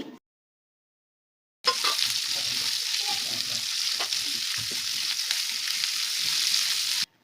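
After a moment of silence, onion hits hot oil with hing for bisibele bath and erupts into a loud, steady sizzle close up, with light stirring and bubbling until it cuts off.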